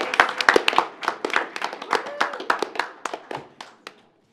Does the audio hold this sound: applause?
yes